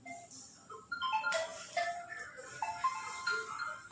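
A mobile phone rings with an incoming call at home, playing a bright melodic ringtone of short tonal notes. It starts softly and grows louder after the first second, with no voices.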